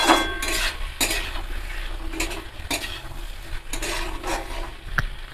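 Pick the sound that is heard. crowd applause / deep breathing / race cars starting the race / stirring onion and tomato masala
stirring onion and tomato masala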